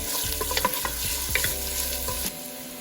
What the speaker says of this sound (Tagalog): Heat around 2 tablespoons of olive oil. Then saute ginger.